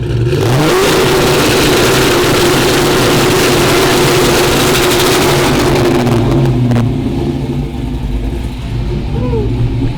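A Pontiac GTO engine fitted with a 2-step launch control runs loud and close, rumbling at a steady high rev for several seconds before easing down, with a few popping bursts near the end.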